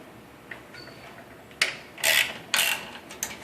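Ratchet wrench loosening the bolts on a pressure washer pump, a faint click or two, then several short bursts of rapid metallic ratcheting clicks, close and fairly loud, no voices.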